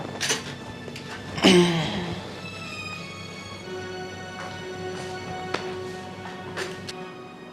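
Dishes and pots clatter briefly in a household as utensils are gathered up, with one loud clink burst early on and faint clinks after, under a steady low hum.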